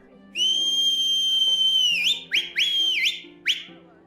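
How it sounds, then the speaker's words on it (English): One long, shrill whistle holds steady, then three or four quick rising whistle blasts follow over a faint, low background. "gave a shrill whistle, cutting through the stamp of hooves"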